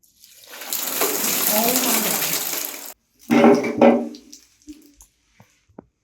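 Water poured onto an ASUS laptop during a spill test, heard as a steady rushing, splashing flow for about three seconds that stops abruptly, followed by a few short wet splashes and drips.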